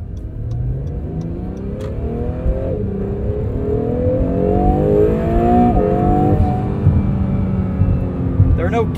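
A 2022 Acura NSX Type S hybrid sports car revs up through rising gears in track mode, the pitch climbing steadily, loud and close with a continuous roar throughout.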